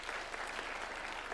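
A crowd of senators, members of parliament and party members applauding at a governing council meeting at State House, dense steady clapping filling a large hall for a short burst.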